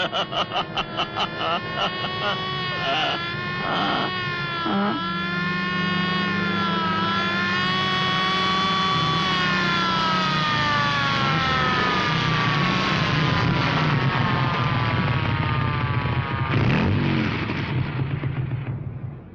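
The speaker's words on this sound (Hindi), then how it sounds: "और ये सायरन है, ये कर रही है पुलिस हवा से बातें।" A police siren wails continuously, rising and falling in long sweeping tones over a running car engine, loud and near throughout a comedy film scene.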